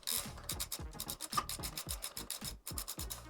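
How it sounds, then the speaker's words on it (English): Socket ratchet tightening a 12mm motorcycle handguard lever bolt on a Kawasaki KLX 150 BF, giving a quick run of close, rhythmic clicking and rasping strokes, nearly continuous and moderately quiet. "Then tightening the bolt with a 12mm socket."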